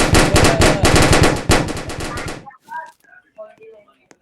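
Rapid, loud gunfire from a sniper rifle in a Roblox shooter game, a dense volley of repeated cracks for about two and a half seconds that stops abruptly, followed by brief chirpy game sounds.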